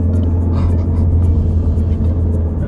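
A car drives on the road toward downtown Tampa, a steady low engine rumble and road noise heard from inside the cabin, loud and continuous with no clear speech over it.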